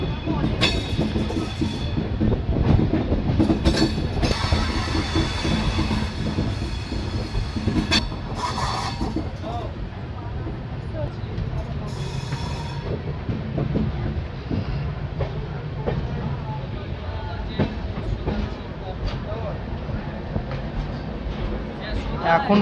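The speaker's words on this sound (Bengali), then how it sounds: "খড়গপুর স্টেশনের 7 নম্বর প্ল্যাটফর্মে ট্রেন এন্টার করছে।" A Jan Shatabdi Express rolls into platform 7 at Kharagpur station, heard from inside the coach as a steady loud rumble with clattering wheels and occasional squeals, while people talk over it.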